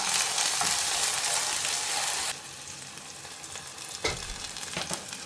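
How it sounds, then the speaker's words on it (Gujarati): Onions are added to hot oil already seasoned with cumin seeds and garlic, giving a loud, steady sizzle close by. The sizzle softens partway through, a brief stirring clatter follows, and no one talks. "તમારું તેલને જીરું હેકાઈ ગયું તેલમાં હવે ડુંગળી હેકી લઈ"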